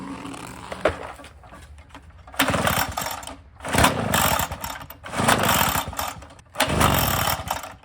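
Repeated pull-starts on a gas leaf blower: four loud bursts of sputtering, rattling engine noise, each lasting about a second, separated by quieter gaps with mechanical clicks.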